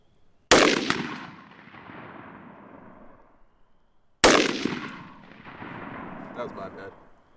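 Two loud rifle shots are fired at a 12-inch target at 36 yards, several seconds apart, each a sharp crack with a long rolling outdoor echo; a voice murmurs faintly after the second.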